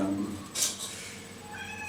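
A pet cat lets out one short meow partway through, faint against a quiet background hum.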